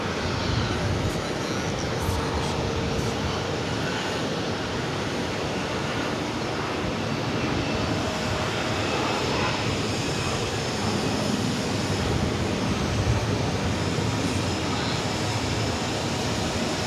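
A jet airliner taxis at JFK airport as a loud, broad, steady engine roar, constant throughout without breaks.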